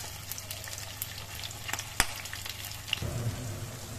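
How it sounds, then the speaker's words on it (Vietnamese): Tofu fries in hot oil in a pan for the Vietnamese dish bún đậu mắm tôm, giving a steady close sizzle with crackling pops and a louder burst of frying near the end. "Trước tiên là chúng ta sẽ chiên đậu."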